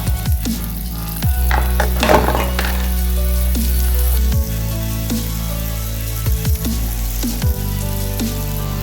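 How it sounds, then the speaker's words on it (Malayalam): Butter melts and sizzles in a pan, a steady loud frying hiss lasting throughout, with a few soft clinks of a utensil. "പാനിലേക്ക് ഞാൻ കുറച്ച് ബട്ടർ ഇട്ട് കൊടുത്തു അതൊന്ന് മെൽറ്റ് ആകാനായിട്ടിരിക്കുവാണ്"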